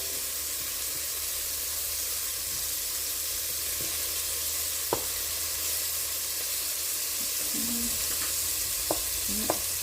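Beef stew pieces dusted in flour fry in a pan with a steady sizzling hiss, broken by a few brief clinks and light knocks as pieces are turned; close and continuous, no talking.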